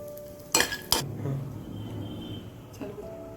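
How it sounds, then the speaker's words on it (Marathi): Dried dates (kharik) being roasted in a pan on a stove produce two sharp metallic clinks of a spoon against the pan, then faint scraping and stirring, with another light clink near the end. "आता ही खारीक आहे, खारीक पण मी भाजून घेते."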